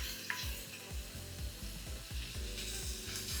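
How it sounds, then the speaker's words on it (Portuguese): Onion sautéing in a cast iron pan, giving a steady close sizzle with a rhythm of repeated scraping stirs across the metal. No voices are heard. "Enquanto a cebola refoga, vai demorar um pouco, porque ela vai soltar toda a água"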